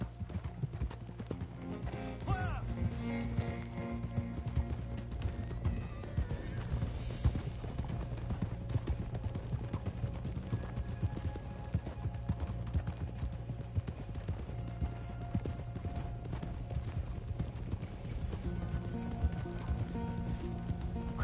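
Horse hooves clip-clop at a rapid gallop in the Red Dead Redemption 2 video game, a continuous rhythmic pounding that runs throughout under a soundtrack, with a whinny early on and talk over it.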